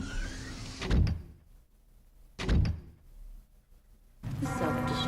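A heavy door opens in a Resident Evil game: two loud, booming thuds about a second and a half apart, each trailing off into a quiet pause, before busy in-game ambience returns. No one speaks.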